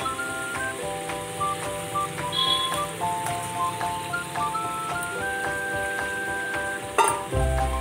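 Fish pieces hit a pan of spiced water with potatoes and cumin, and a steady, moderate sizzle follows under background music, with a brief louder burst near the end.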